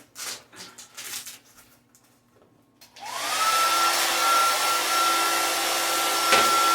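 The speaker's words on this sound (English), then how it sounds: "let's get a hair dryer on it" A hair dryer is aimed at the vinyl window skin of a Jeep TJ half-door. Some handling noise comes first, then the dryer switches on with a rising whine and settles into a loud, steady blowing roar.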